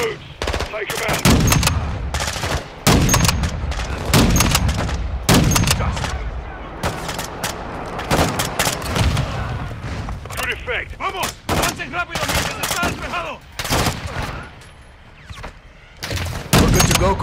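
Gunfire in the shooter Call of Duty: Modern Warfare 2, dense bursts of automatic fire and single shots cracking repeatedly in a chaotic battle, close and loud, with shouted voices heard amid the shooting.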